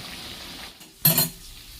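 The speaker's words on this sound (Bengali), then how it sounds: "এখানে আলু ভাজা হচ্ছে" Potatoes frying in a pan, a soft steady sizzle with a brief louder burst of stirring or a utensil clink near the middle, then settling back to a gentle hiss.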